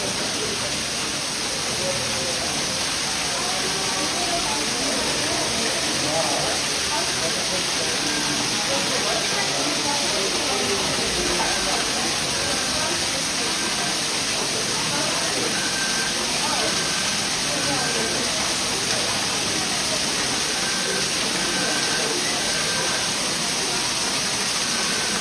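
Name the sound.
waterfall in an artificial cave at Disneyland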